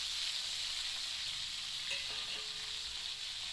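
Garlic and onion sizzle steadily in a hot pan, a continuous hiss of frying with a faint clink partway through, close up and with no voices.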